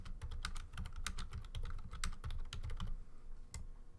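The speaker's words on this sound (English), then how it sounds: "Intense typing while we put a Twitter poll up on Twitter." Rapid, intense typing on a computer keyboard, a dense clatter of close keystrokes running steadily for about four seconds with no voices.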